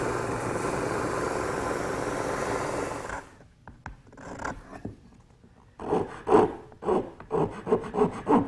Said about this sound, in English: It's just a matter of taking a rasp and fine-tuning each piece until it fits snugly in the mortise.